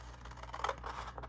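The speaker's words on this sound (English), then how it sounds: "Get your scissors and just go ahead. I'm not worrying too much if I'm super straight. I'm just gonna cut." Scissors cutting a small square of paper for a folded mini journal, a short, soft snip close by with no talk.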